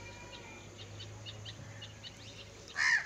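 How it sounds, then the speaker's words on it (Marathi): Crows gathering around a village house, faint short calls and chirps repeating at a distance over a low steady hum, ending in one louder, closer caw. "तर कसे कावळे आले."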